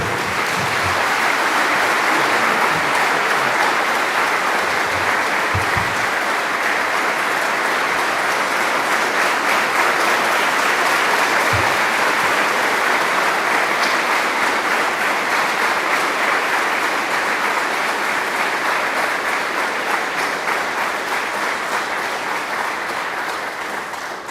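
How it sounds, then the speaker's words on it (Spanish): Loud, sustained applause from a large congregation at an evening church gathering in Bolivia welcoming a preacher, a thick continuous roar of clapping that holds steady for the whole stretch before fading slightly at the end. "Lo recibimos con fuerte aplauso."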